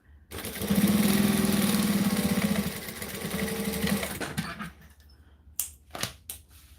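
A sewing machine hums through a continuous run of stitching on an order for about four seconds, then stops, followed by a few sharp clicks and handling sounds.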